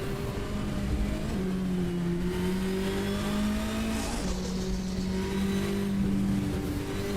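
A damaged Ford Sierra Cosworth hill climb car's engine drones steadily, pitch rising and falling slightly through gear changes, heard from a distance at a European Hill Climb Championship event with constant ambient noise.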